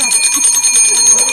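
A small metal bell rings in rapid repeated strikes, a bright close jangling that continues throughout, heard during a Haryanvi wedding horse-procession scene.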